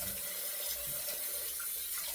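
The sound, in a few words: water running from a tap, rinsing after a shave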